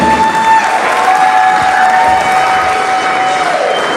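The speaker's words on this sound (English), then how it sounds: "Let's give them a round of applause, ladies and gentlemen." Wedding guests clap and cheer together in a loud burst over background music, the crowd noise staying steady for a few seconds.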